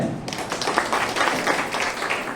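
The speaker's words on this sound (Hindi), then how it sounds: "यहीं से इनको तालियों के साथ स्वागत है" Scattered applause from a crowd at a public event in an Indian village, welcoming a panchayat head, a soft, brief patter of clapping at moderate distance.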